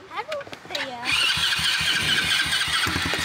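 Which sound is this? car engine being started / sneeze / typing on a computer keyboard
car engine being started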